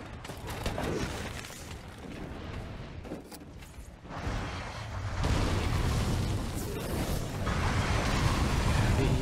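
A monster in Monster Hunter World lifts into the air, its broad rumbling wing beats and rushing wind building to a loud, dense roar that holds steady through the second half.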